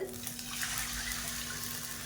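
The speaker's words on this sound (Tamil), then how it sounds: "இப்போ இந்த ஸ்டேஜில் நம்ம தண்ணி சேர்த்துக்கலாம்" Water pours steadily into a pan of ghee-fried coconut while making kolukattai, a continuous close trickle and splash with a faint background hum.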